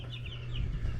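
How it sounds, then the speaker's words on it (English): Pet birds in a home office give a brief run of chirps and clucking calls over a low steady hum, close and moderately loud. "say hi to the birds"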